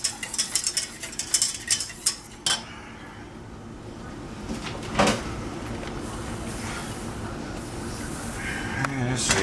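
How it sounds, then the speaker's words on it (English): Dry macaroni rattles and clatters into a pot of melted butter sauce made with about half a stick of butter, a burst of close clinks and scrapes that fades into a steady kitchen hiss. "I'm gonna put my macaroni in there."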